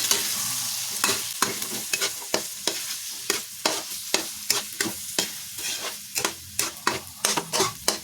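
Scrambled egg with tuna flakes and corn kernels stirred in a frying pan: a soft sizzle under a run of regular spatula scrapes and taps, roughly one or two per second, close and clear with no talking.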